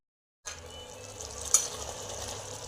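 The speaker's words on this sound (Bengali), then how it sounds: "এটা আমি 10 মিনিটের মতো ফুটতে দেবো।" Potol dorma (stuffed pointed gourd) bubbling and sizzling in a pan, a steady close hiss with faint stirring scrapes, starting abruptly after a brief silence, no voices.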